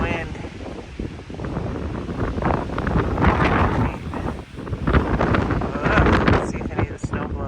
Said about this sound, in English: Some wind.